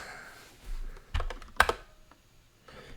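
Keystrokes on a computer keyboard, a short irregular run of clicks with one sharper clack in the middle and a few softer taps trailing off, close up.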